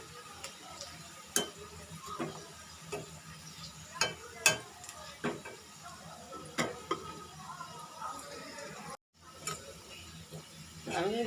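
Garlic, chopped onion, cumin, black cumin and dried chillies fry in oil for a haleem topping, giving a steady sizzle with scattered sharp ticks and pops while a voice talks over it.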